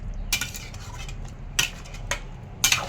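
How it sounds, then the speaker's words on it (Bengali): A spoon stirs a spinach and taro curry in a pot, making three or four sharp metallic clinks against the pot over a low, quiet simmer. "নাড়তে থাকবেন, যেহেতু কচু আছে সেহেতু লেগে যেতে পারে।"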